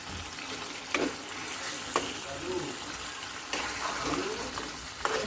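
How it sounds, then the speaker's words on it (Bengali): Large koi fish sizzling in hot oil in a pan, a steady crackling fry broken by sharp clicks of a utensil stirring and turning the pieces, close and clear. "মাছগুলো কষাবে প্রায় পাঁচ মিনিট কারণ বড় বড় কই কই মাছ কষিয়ে কষিয়ে তারপরে রান্না করবো"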